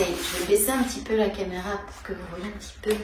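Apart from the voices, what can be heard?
No distinct noise like a dog, phone or traffic.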